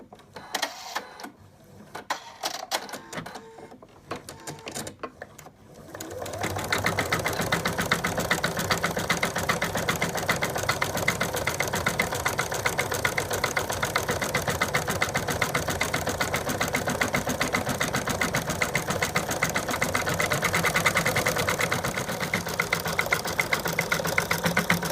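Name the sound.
embroidery machine stitching outlines of limbs and tail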